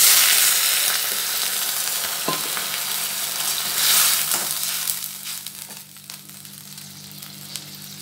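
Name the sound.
water added to frying onions, sizzling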